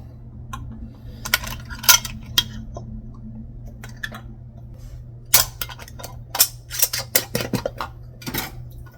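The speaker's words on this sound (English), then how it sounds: "Put on the hot rings as well. Start screwing them on." Hot metal canning lids and rings are set onto filled jars of home-canned baked beans, giving scattered light metallic clinks and taps, sparse at first and then a denser run of clatter near the end.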